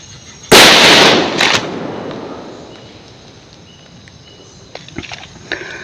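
A firecracker goes off with one loud, sharp blast, followed by a second crack and a fading crackle, then scattered small pops further on.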